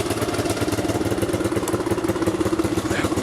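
A Suzuki LT 185 ATV engine runs steadily at a low, pulsing idle-like chug with a rattly clatter, close and continuous.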